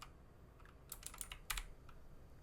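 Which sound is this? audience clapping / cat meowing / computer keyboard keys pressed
computer keyboard keys pressed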